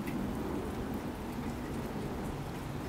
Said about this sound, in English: Although it's like raining harder now.